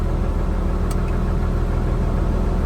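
A Komatsu 755 motor grader's diesel engine sits at low idle, a steady, even, low rumble close by with no talking.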